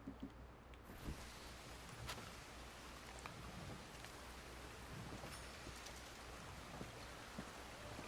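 Steady rainstorm in the open-world western video game Red Dead Redemption 2, a dense continuous hiss of rain falling on surfaces with scattered drop patters, fairly faint and even throughout with no talking.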